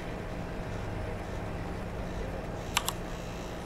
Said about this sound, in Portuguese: O som do motor quente.